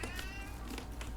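A single short meow from a bored house cat, soft and nearby, set against a steady low hum in the room.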